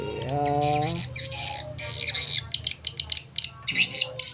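Swiftlet mating-call lure recording of the SP Birahi Dewa Perang type, used to draw swiftlets: repeated shrill chirps and squawking trills run back to back at steady loudness, with no voices.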